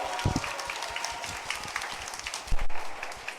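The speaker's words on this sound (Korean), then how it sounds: "큰 박수 한번 부탁드립니다" Audience applause for a musical actor at a book concert, scattered clapping with a few close sharp claps and thumps standing out, fairly quiet overall.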